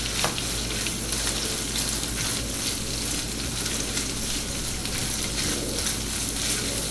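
Chorizo fries over medium heat with onions and serrano or jalapeño chili, a steady dense crackling sizzle held throughout at moderate loudness, with no talking.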